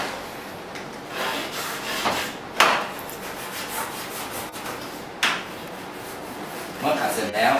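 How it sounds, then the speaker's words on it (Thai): A wet brush scrubs algae off a sliding-door kiosk cabinet in steady, fairly loud rubbing strokes, several sharper swipes standing out, with no voices. "เราจะใช้แปรงจุ่มน้ำ แล้วก็ใช้ขัดนะครับผมใช้ขัดตามบริเวณที่ว่าขี้ตะไคร่น้ำจับตรงไหนเราก็ขัด"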